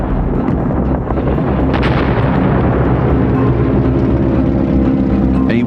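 Artillery fire and explosions in a Vietnam War battle, giving a loud continuous rumbling barrage with dense booms and bursts layered together, heavy and sustained throughout.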